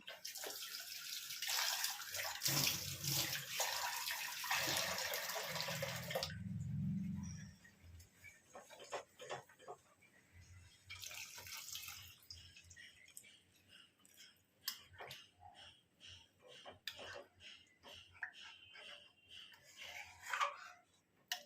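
Water pours into boiling curry for pakoda, a steady rushing splash for several seconds that gives way to quieter bubbling and occasional utensil clinks close by.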